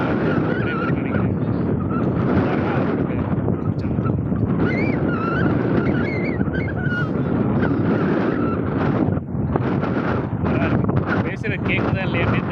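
Strong wind buffets a microphone outdoors, a loud continuous roar and rumble filling the whole stretch without pause.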